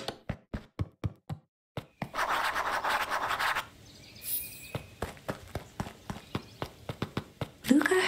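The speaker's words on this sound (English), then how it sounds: "Luca heard a group of footsteps approaching." Footsteps approaching in the game Beacon Pines, a string of crisp, evenly spaced taps that stop briefly under a burst of rustling, then resume in a quicker, overlapping patter from several walkers.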